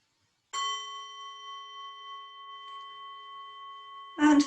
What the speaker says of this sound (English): And now my beautiful assistant will ring the bell.